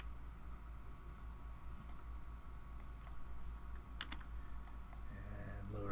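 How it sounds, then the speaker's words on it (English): Someone types on a computer keyboard, entering parameters in a mapping program: a faint, steady patter of quick key clicks over low room hum, ending with a few louder taps. "I'm going to go ahead and type those parameters in"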